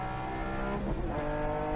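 A car lapping Barber Motorsports Park race track, braking late and getting back on the power, gives a steady loud engine drone with layered harmonics throughout, heard from close by with no talk.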